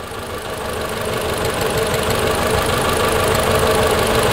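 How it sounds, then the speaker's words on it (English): A car engine idles steadily with one cylinder disabled during a power balance test, giving a loud, close, continuous hum with a faint rhythmic roughness and no talking. "I've got a pretty steady idle. I'm going to go ahead and disable a cylinder."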